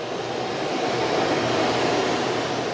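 A Taiwan High Speed Rail train rushes along with a steady, broad roar, loud and continuous, with no voices.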